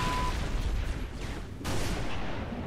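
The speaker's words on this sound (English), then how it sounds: "whatever weapon was shooting all those, I want it, because that was crazy" Bursts of gunfire from a weapon in the game Halo Reach crack and boom in a rapid series, close and loud against a noisy game backdrop.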